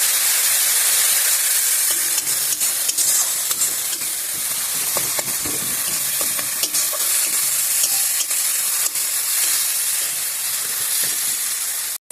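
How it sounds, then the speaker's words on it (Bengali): Cumin paste and chili powder fry in a pan under constant stirring, a loud, continuous sizzle broken by repeated scraping strokes of the spoon. "এখানে আছে জিরা বাটা, সেটাও দিয়ে দেবো। এবার মশলাটা খুব ভালো করে কষিয়ে নেবো।"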